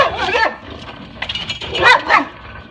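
A dog barks a few times at close range, in short sharp bursts with brief pauses, and some yipping between them.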